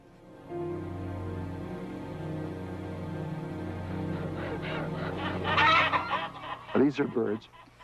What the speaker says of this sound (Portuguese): As galinhas hoje estão em gaiolas tão apertadas que nem conseguem levantar as asas.